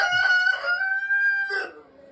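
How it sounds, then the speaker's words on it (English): A rooster crows once among a flock of hens in a barn, a loud, close, drawn-out cock-a-doodle-doo lasting about two seconds, with no talking. "We actually have two roosters."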